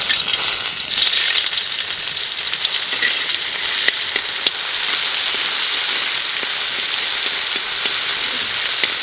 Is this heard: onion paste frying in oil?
yes